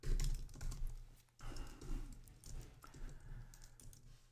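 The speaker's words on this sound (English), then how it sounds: "On a Mac, using a wireless Magic keyboard." Typing on an Apple wireless Magic Keyboard without a number pad, connected to a Mac: a steady run of close, soft key clicks with a short pause near the start, no voices.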